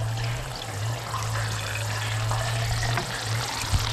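Water pours from a DIY deep well pump into a container in Mindanao, a steady close rushing splash with a low hum beneath it, continuous for a few seconds.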